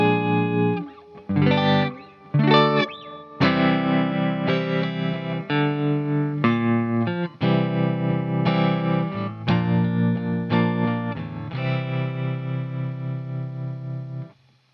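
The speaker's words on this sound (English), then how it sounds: "So I am using a little bit of reverb and a little bit of tremolo on this sound." Clean electric guitar chords ring out with a wash of reverb and a gentle pulsing tremolo, strummed steadily and played alone with no voices.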